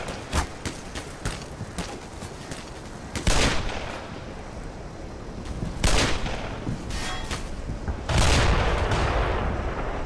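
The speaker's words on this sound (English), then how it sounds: "I don't like those mortars" Mortar strikes in Black Mesa, sharp gunshot cracks scattered throughout, with three heavier booming impacts landing at intervals amid ongoing combat noise, no talking.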